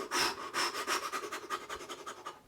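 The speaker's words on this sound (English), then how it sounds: "You can do rapid panting, right? Where you go in and out, right?" A person doing a rapid panting breathing exercise as a vocal warm-up, with quick, even, close breaths in and out repeating about eight times a second, growing slightly softer toward the end, with no talking.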